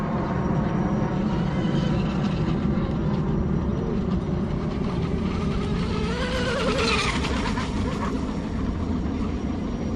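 Handmade American-made RC boat motor running steadily at half throttle outdoors on a lake, a continuous loud buzzing whine with a brief rising pitch sweep midway, no talk.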